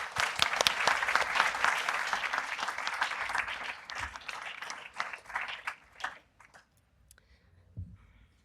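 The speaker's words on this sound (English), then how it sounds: "so let's give them a round of applause." A round of applause from the audience at a climate-tech showcase evening, full and steady clapping from a sizable crowd that gradually thins into scattered claps and fades to near silence.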